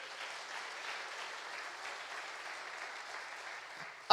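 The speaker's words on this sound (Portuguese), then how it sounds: "Bata as palmas para Ele." A church congregation claps hands together in steady, dense applause that holds for about four seconds, a broad even wash of many palms with no voices standing out, then breaks off abruptly at the end.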